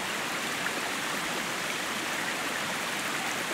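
A stream running beside a hiking trail in the Adirondacks near Broomstick Lake, a steady, full rushing wash of water close by, with no voices.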